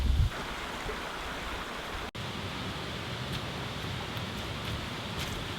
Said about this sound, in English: This must be the waterfall that I could hear from my room last night.